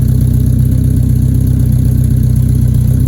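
A project car's engine runs loud and steady with a new exhaust clamped on, giving a deep, rhythmic idle that throbs evenly throughout.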